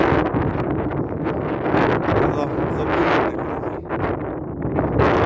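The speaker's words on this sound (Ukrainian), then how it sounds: "Вітер здоровецький." Strong wind buffets the microphone outdoors by a vegetable garden, a continuous, roaring rumble that swells and eases, with no clear voices over it.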